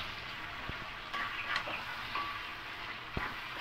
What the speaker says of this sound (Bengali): একটু ভালো করে মিক্স করে নেব